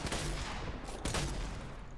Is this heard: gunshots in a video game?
yes